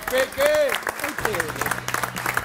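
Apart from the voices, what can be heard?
audience applauding an eliminated cooking contestant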